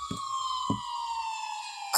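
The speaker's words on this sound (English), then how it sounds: "I finally heard sirens in the distance." A steady police siren wail holds a constant tone with faint thumps beneath it, sounding somewhat distant, ending with a louder burst.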